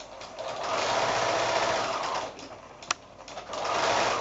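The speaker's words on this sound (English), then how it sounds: "I'm going to take that to the machine, and just using a 1/4-inch seam allowance, I'm going to sew along that edge there." A sewing machine runs steadily along a quilt seam with a quarter-inch allowance, a continuous close whir that dips briefly near the end around a single sharp click before resuming.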